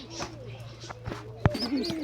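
A pigeon kept near its nest and chicks gives soft, low cooing calls nearby, brief and intermittent, mixed with a sharp knock and rustling while a person talks over it.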